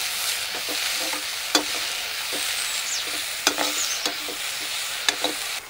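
Onion and tomato sauté in a pan for a coconut palya, a soft continuous sizzle punctuated by sharp spoon taps and scrapes against the pan, close up with no talking.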